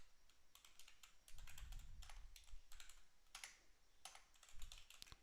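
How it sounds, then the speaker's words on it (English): Rapid bursts of keystrokes on a computer keyboard during live options and futures market trading, clicking in irregular clusters at close range with short pauses and no voices. "Did I type it in wrong?"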